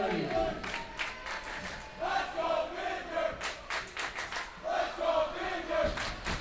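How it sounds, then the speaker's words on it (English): A home crowd at a high school ice hockey game cheers and roars steadily to urge a player back into play, a loud, dense wall of voices with rising shouts and claps. "Vineyard crowd trying to get him back in the game."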